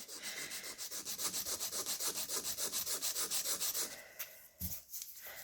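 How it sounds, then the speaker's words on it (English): Hand file worked against an acrylic nail, a fast rhythmic rasping of about twenty close even strokes, then a few scattered scrapes and a soft bump, no talking. "if I want to file a straight edge, I use the straight edge of my file"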